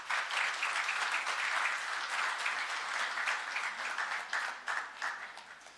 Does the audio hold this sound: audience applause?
yes